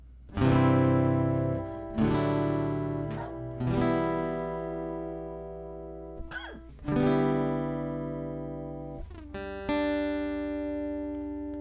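An acoustic guitar plays the chord progression of a song, with about six strong strummed chords left ringing between strikes, close and clear with no talking.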